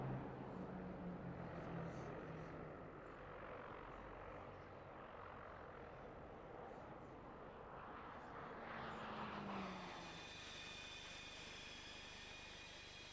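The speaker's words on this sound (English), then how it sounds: "the Orlik team from Eastern Europe with their propeller-driven aircraft" Propeller-driven aircraft of the Orlik display team fly at the 1999 Royal International Air Tattoo air show, a distant droning engine roar under crowd and wind noise that swells and fades with a higher whine near the end.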